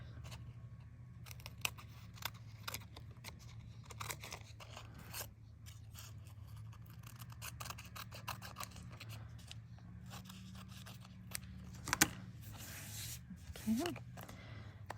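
Scissors snip and scrape as they trim an artist trading card covered in book pages from the back, with quiet, intermittent cuts over a low hum and a few louder snips near the end.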